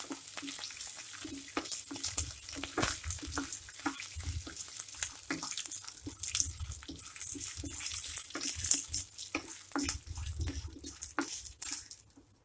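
Peanuts and other ingredients fry in hot oil for lemon rice, giving a steady close crackling sizzle with irregular stirring clatters throughout and no talk.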